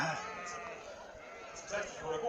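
Cheviot sheep bleat in brief bursts beneath continuous speech, the animal calls faint and mixed into the talking.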